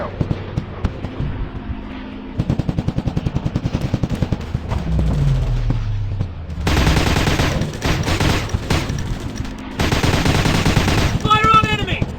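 Automatic machine gun fire in the video game Commando Strike, rapid bursts of shots in sharp rhythmic runs with loud stretches of continuous gunfire and game effects, close and dense.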